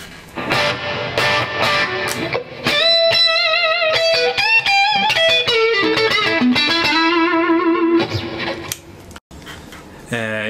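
Electric guitar played through a Boss Katana 50 MkII amp with reverb engaged, switched between half-watt and 25-watt power: strummed chords give way to ringing single-note melodic lines that sustain loudly and steadily, with a brief dropout near the end.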